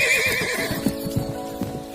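A horse whinnies loudly at the start, and then hooves clip-clop in an uneven rhythm on a hard surface.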